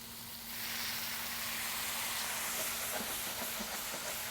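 Tomatoes and a splash of white wine hiss and steam in a hot pan, a steady broad sizzle rising after a brief quieter start, with faint scattered clicks over the top.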